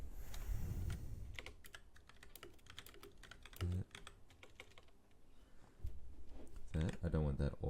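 Keys on a computer keyboard tapped in a steady run of quick clicks while text is entered, with a person talking over much of the typing.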